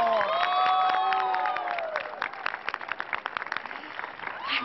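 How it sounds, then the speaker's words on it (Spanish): Studio audience at a televised show claps and cheers after a dance performance, lively applause with scattered shouts, at first partly masked by bright synthesized music tones. "Un aplauso, por favor. Que te haga sentir ese aplauso."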